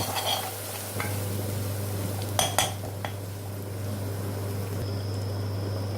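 Masala paste for a Sindhi egg curry fries gently over a low flame, with a low, even sizzle under clear stirring, a few sharp metal clinks of spoon against pan near the middle, and no talk.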